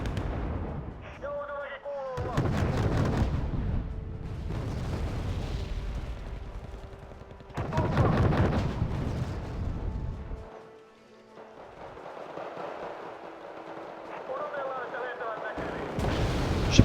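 Rocket and artillery fire in the military strategy game Wargame: Red Dragon, with bursts of booming blasts and launches that rise over a continuous battle rumble, while someone talks over the action.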